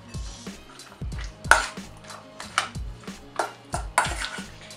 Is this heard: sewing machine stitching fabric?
no